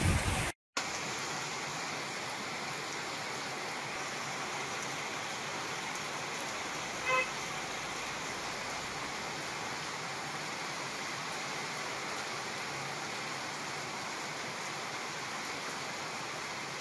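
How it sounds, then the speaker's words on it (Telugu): Heavy rain pours steadily during a cyclone in the Warangal district, a dense, even hiss that holds at a constant level throughout, with no voices. "భారీ వర్షం కురుస్తోంది"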